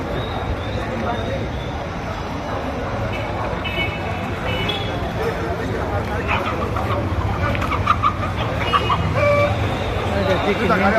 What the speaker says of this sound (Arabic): هذا الديك الهندي اهو جري من صاحبه رايحين يمشوا.